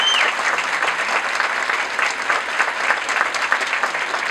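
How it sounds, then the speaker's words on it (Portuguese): Audience applause thanking a cast at an entrepreneurship event, a continuous even wash of clapping from a crowd, moderately loud with no talk over it. "me ajudem a agradecer esse elenco com uma salva de palmas"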